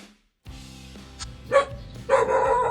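A dog barks a few times at close range, short sharp yips rising in bursts over a steady low background hum.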